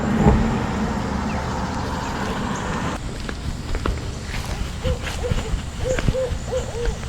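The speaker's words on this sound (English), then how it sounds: "Can you hear that? Some kind of bird." An owl gives a series of soft, repeated hoots outdoors in a quiet residential area, a little distant, following footsteps and passing road traffic.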